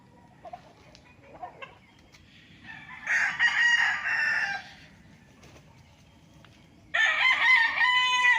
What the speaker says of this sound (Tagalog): pwede din kayo mag-alaga ng manok dito mga kaprops